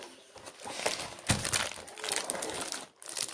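Sheets of cardboard paper are handled close by with crinkling, rustling and flapping, including a sharp louder rustle partway through.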